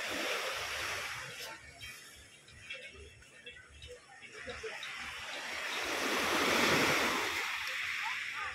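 Sea waves breaking on a beach in Crimea, a soft continuous wash that swells and recedes, rising toward the end, with wind on the microphone and faint voices nearby.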